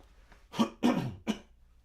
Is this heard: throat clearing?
yes